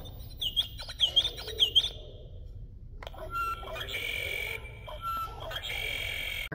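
Recorded bird songs play from a museum interactive display for children, a few bright chirping calls up close followed by a steadier electronic trilling song over a low room hum.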